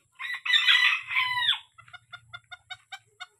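A very small chicken on a farm gives a loud, drawn-out crow, then a string of about ten short, evenly spaced clucks, close by and with no talking.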